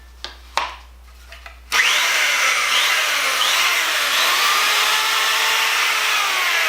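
A Black & Decker Quantum 1/2 x 18 inch belt sander with a bag dust filter starts after a few small clicks and runs as a steady, loud, close whirring hum.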